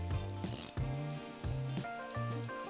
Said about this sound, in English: Some wrenches have a ratcheting mechanism on the box head that allows the user to reset the socket wrench rather than repositioning between every rotation.